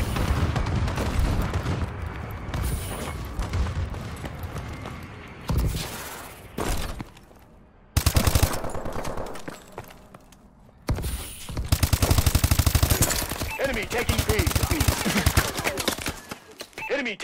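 Heavy combat in Call of Duty: Advanced Warfare, with rapid automatic gunfire, explosions and a friendly bombing run all merging into a loud, continuous din that breaks off briefly into short gaps before resuming.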